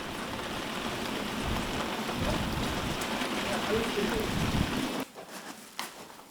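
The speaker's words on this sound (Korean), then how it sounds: "가을비가 내리는 염전." Autumn rain falling on a coastal salt pan, a dense steady hiss of drops that fills the scene for about five seconds before cutting away to a quieter, sparser patter.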